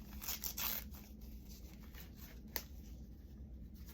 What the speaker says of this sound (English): We're gonna just tear it off. And then I'm just gonna tear it again.